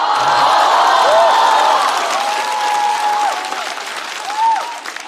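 A stand-up comedy audience claps steadily, loud and close at first and then thinning slightly, with a few scattered whoops and cheers rising over the applause.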